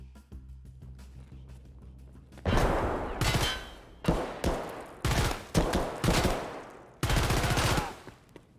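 FN P90 gunfire in the game Escape from Tarkov: loud, close bursts of rapid automatic fire come in several separate strings after a quiet start, with short pauses between them.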